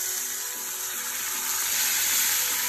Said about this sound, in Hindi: अब हम एक तवे के ऊपर या फ्राइंग पैन में तेल लेके फिश को इसमें फ्राई करने के लिए रख देंगे।